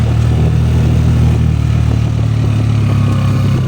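RUSI 125 motorcycle engine running while riding on a cemented rural road, a steady, close droning hum with a constant low rumble and some clatter, no talk over it.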